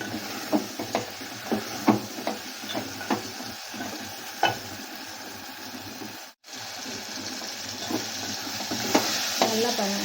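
Vegetables for a vegetable kurma sauté in a pan with salt and asafoetida, a constant close sizzle punctuated by repeated rhythmic scrapes of a stirring spoon, briefly cut off midway, with no voices.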